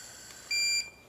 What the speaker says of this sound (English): And when it beeps like that, it will actually measure the blood alcohol concentration.